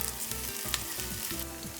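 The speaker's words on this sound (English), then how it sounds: "frying each side of the chicken pieces until it turns crispy on all the sides." Marinated chicken pieces deep fry in hot oil in a wok, giving a close, steady crackling sizzle with occasional louder pops and a few soft stirring knocks, with no voices.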